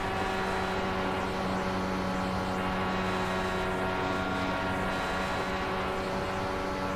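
Indycar engine held at steady throttle on a 1.5-mile oval at Kentucky in the iRacing sim, a continuous loud whine with stable harmonic tones running the whole time, no voices.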